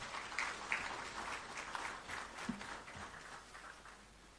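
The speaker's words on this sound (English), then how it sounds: "Shall we please receive him with an applause?" Faint applause from an audience at a Ghanaian swearing-in ceremony for a new Chief Justice, with scattered clapping heard distantly and softly throughout.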